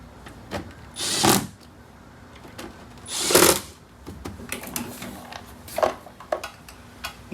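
Coarse-thread screws driven into rivet nuts on a DeLorean replica license plate flipper, two loud whirring bursts of a power driver followed by lighter clicks and handling noises nearby.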